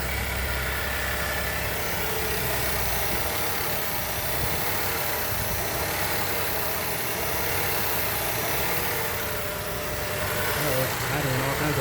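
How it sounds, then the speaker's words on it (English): A 2010 Chevrolet Traverse engine idles unevenly after a timing chain repair, a loud, continuous broadband rumble with a slight wavering, heard close up and steady for the whole stretch. "Idling all kinds of funky."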